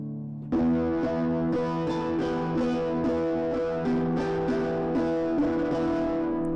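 A sampled lute from Cinematique Instruments played through a distortion effect, a run of plucked notes turned gritty and buzzing, with each attack ringing into a thick, saturated sustain.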